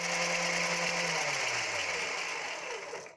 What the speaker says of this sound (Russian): Я взбиваю не меньше 15 минут на высокой скорости миксера